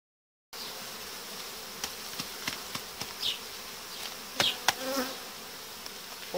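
Honey bees from a young colony's brood frame buzz faintly and steadily, with a few brief louder swells and thuds as the frame is shaken, heard alone without voices.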